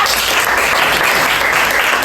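Applause for a student named Dila during a school guidance session on managing emotions; a dense, steady burst of clapping from a group fills the room for about two seconds.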